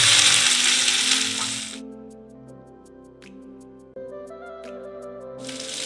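Chopped garlic, ginger, chilli, capsicum and onion sizzle in hot oil in a pan for Manchurian gravy, a steady frying hiss that is loud at the start, fades under steady tonal background music, then swells again at the end.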